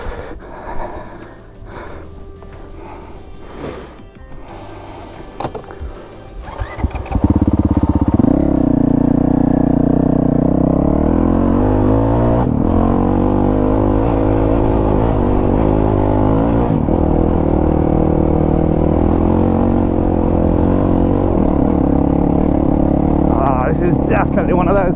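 A Honda 450L dual sport motorcycle rides a country lane. Its engine drones loud and steady after a sudden start, with shifting tones as it pulls along. Breathing and wind noise sit over it.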